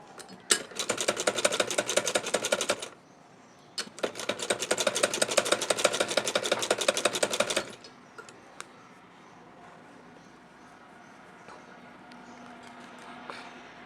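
A sewing machine runs along the neckline of a kurti in two fast, steady bursts of rapid stitching, loud and close, then stops, leaving quiet handling and faint clicks.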